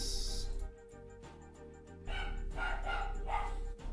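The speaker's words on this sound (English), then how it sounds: "Sorry, dog in the background." A dog barks several times in the background of a home room, sharp yaps clustered in the second half over a low steady hum.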